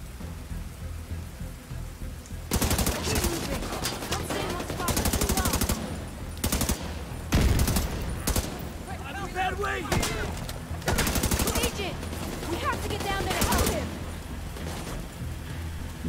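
Bursts of automatic gunfire in the video game Division 2 crackle in repeated clusters of rapid shots, loud and close, with a quieter stretch at the start.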